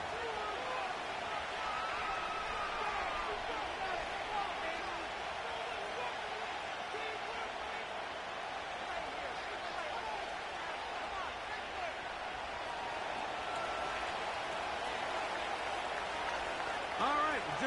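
Stadium crowd noise at State Farm Stadium in Glendale, Arizona, in an EA Sports football video game, a steady distant roar of fans under commentators talking.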